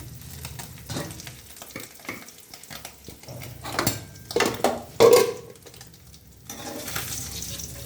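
Sardines frying in a pan give a steady low sizzle, with a few sharper crackles and metal scrapes of a spatula against the pan toward the middle, close up and without talk.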